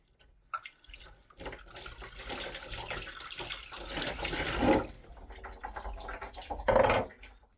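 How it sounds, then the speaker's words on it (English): Tap water runs into a kitchen sink as utensils are rinsed, a moderate splashing flow with a few louder clinks and surges, heard alone without talk. "I'm going to give this a little rinse."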